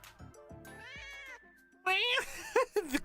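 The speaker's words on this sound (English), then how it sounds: "The cat noise, man." A cat meows several times in the Stella Sora video game. The meows are bright, rising and falling calls, clear and close, after a short stretch of game music.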